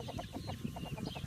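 Free-ranging backyard chickens cluck in a quick, steady series of short calls, fairly close but soft, with no talking.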